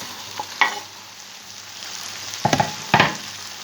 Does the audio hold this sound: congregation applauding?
no